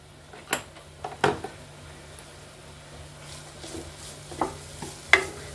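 Grated coconut roasts in a pan for mango laddu, with a faint dry sizzle under a few distinct spatula scrapes and stirs spaced irregularly.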